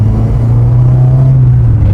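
A VW Citi Golf's engine drones steadily under acceleration from inside the car, a loud, even low rumble with a gradually rising pitch and no voices.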